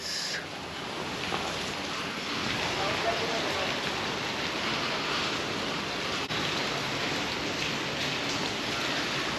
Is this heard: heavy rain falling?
yes